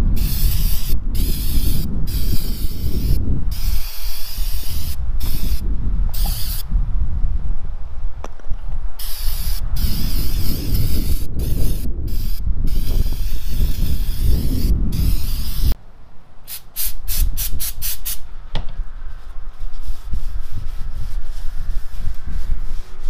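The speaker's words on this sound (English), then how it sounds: "I'm gonna just go ahead and hit them with this brake cleaner." Brake cleaner sprayed from an aerosol can onto car brake calipers with the pads removed, a loud, continuous hissing spray in long bursts broken by short pauses and a few clicks, up close with no talk.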